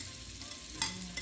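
Garlic frying in rendered pork fat, a steady soft sizzle with a couple of brief scraping stirs near the end, close by and without talk.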